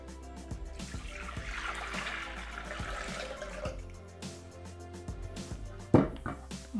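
Water trickles and splashes steadily into a Thermomix food processor bowl for several seconds, fairly quiet, ending with a louder clatter near the close.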